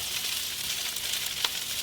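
Garlic sizzling and frying in a hot pan, a steady close crackle with a brief sharper pop near the end, no voices.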